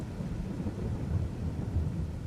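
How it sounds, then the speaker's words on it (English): Low, steady rumble of rain and thunder from a farming video game during forestry work, a continuous dense wash filling the whole stretch at moderate level with no speech over it. "Here comes the rain, which, strangely enough, I hear it, but I don't see it."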